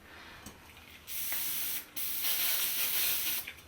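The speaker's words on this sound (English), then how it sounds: "Hairspray it." Hairspray hisses from an aerosol can onto hair in two sustained, close bursts, each lasting about a second, separated by a short pause, with faint clicks of handling between them.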